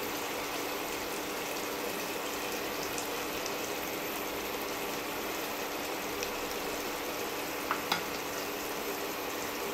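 Mutton liver sizzles and fries steadily in a pan, a constant close hiss with a couple of brief sharp clicks near the end and no talking.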